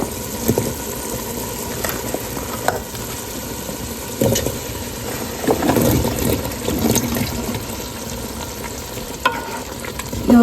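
Potatoes stirred into a frying curry masala for aloo gobi, with a steady oily sizzle and occasional scraping stir sounds throughout, close and moderately loud.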